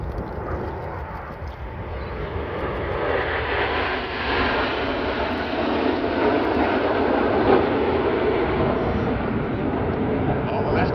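Red Arrows jets roar steadily through a flying display, the engine noise loud and sustained as the aircraft turn overhead, with an announcer's voice over a public address system.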